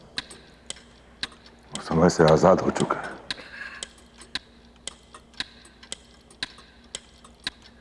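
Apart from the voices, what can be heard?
clock ticking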